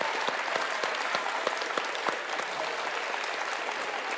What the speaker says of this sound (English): we're even getting a standing ovation